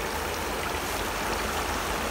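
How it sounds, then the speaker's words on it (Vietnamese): A swollen rural stream flows fast near a log footbridge, giving a loud, dense, unbroken rush of water that fills the whole clip with no talk. "Nước suối, y nước suối các bạn."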